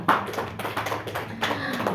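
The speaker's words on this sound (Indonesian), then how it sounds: "Tepuk tangan dulu dong, Clara." A small audience at a talk on financial literacy and creativity claps briefly, a scattered patter of hand claps with uneven rhythm lasting about two seconds, fairly close.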